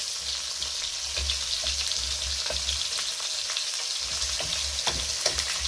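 Tomatoes sizzle and crackle steadily as they fry in a pan with ginger, a loud continuous hiss with small pops and occasional stirring, no talking.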